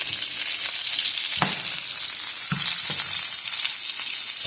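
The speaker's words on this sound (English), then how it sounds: "Turn the fire down a little when I put that bacon grease in there" Garlic frying in hot bacon grease in a pan gives a loud, steady sizzle and crackle, with a few soft thumps of the pan or utensil.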